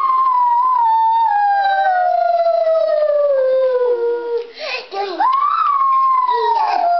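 A dog howls in one long, loud, close, mournful tone that slowly falls in pitch, breaks briefly, then rises and carries on.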